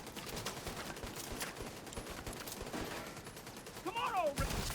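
Rapid bursts of automatic gunfire from an automated turret in a video game, dense and continuous with crackling shots under game noise, plus a brief whooshing sweep near the end.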